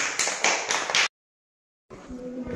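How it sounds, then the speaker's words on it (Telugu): Children in a primary school classroom clap for a classmate in a brief, fast burst of close, uneven claps that stops abruptly, followed by a short gap and then quiet room sound. "క్లాప్స్ కొట్టండి విష్ణుకి."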